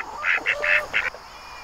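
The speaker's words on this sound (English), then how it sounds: "Hey, duck, you got a duck." Duck quacking in a garden, four or five loud, nasal quacks in quick succession close by, then fading to quiet background.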